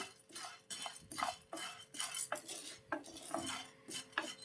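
A utensil stirs sago in a hot pan on the stove, making repeated scraping and clinking strokes in a steady, close rhythm with no voices.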